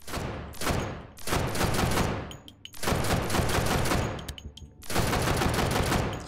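Full-auto bursts from a DSM rifle in the VR shooter Hot Dogs, Horseshoes & Hand Grenades, heard as three long, loud, rapid strings of gunfire separated by short pauses, with no talking over them.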